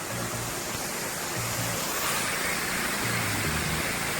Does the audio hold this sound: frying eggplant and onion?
no